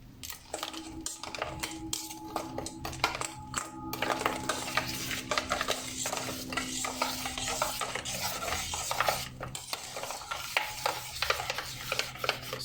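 Caustic soda solution for soap making is stirred steadily in a container, a continuous scraping, swishing rub with occasional light clinks, close and fairly loud with no talking.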